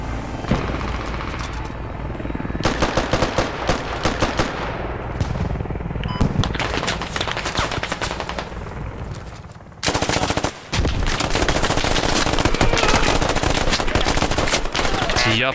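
A machine gun in the military shooter game Squad fires loudly in dense, repeated bursts, layered with other gunfire and a constant battlefield rumble.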